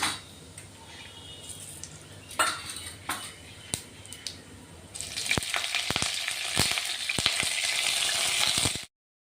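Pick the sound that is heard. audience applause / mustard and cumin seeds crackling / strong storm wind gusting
mustard and cumin seeds crackling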